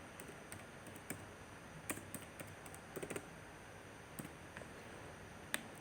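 Sparse keyboard keystrokes while a SQL describe command is entered for a supplier database table, a handful of light clicks scattered over faint room hiss, with no talking.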